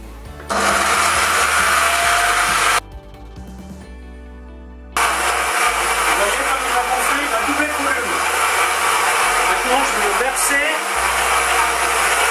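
A kitchen machine kneads flammekueche dough on speed 2, giving a loud, steady motor whir that stops briefly and then runs on again, close and continuous.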